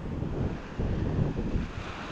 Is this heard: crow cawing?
no